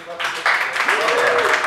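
An audience breaks into applause, a short burst of clapping that swells after a moment and holds, with a voice briefly audible at the start.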